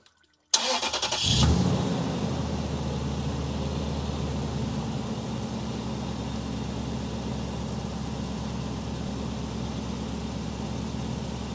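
A Toyota Tundra with the 4.7 engine cranks briefly and catches, then settles into a steady, even idle that continues without a break, with no talk.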